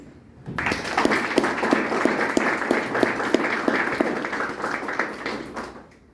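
A literary event audience claps warmly to welcome an author. Broad applause carries a distinct rhythmic beat of synchronized claps and fades out near the end.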